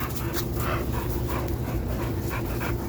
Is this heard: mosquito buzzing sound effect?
no